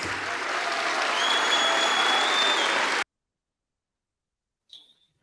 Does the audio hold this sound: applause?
yes